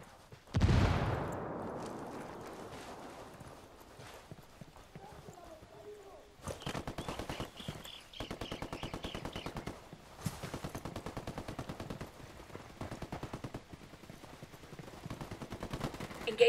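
Gunfire in Ghost Recon Wildlands, a loud opening shot followed by long bursts of rapid automatic fire with brief pauses between them, close and sharp, with voices talking over the action.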